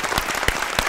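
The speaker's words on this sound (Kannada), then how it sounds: "2ನೇ ಸ್ಥಾನದಲ್ಲಿರೋ ಶಂಭು ಕುಟುಂಬಕ್ಕೆ ಇನ್ನೊಂದ್ಸಲ ಜೋರಾದ ಚಪ್ಪಾಳೆ ಬರಲಿ" A studio audience at a televised cinema quiz claps, a short burst of dense, fairly loud applause.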